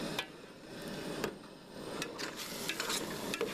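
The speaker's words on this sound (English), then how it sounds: "It's time for another mix." Onions being stirred in a pan for chili beans on a camper van stove, with scattered scraping clicks and taps of a utensil over a low steady sizzle, close by and fairly quiet.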